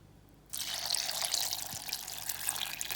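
Water poured into a mixer jar holding banana, peanuts and dates for a smoothie: a continuous splashing pour that begins abruptly after half a second and runs steadily to the end, close and clear.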